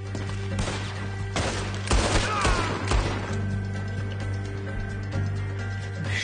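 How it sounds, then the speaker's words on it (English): Video game gunfire crackles in quick bursts of sharp shots and clattering mechanical clicks over a steady electronic hum, aimed at the player character. "Wait, who's shooting me?"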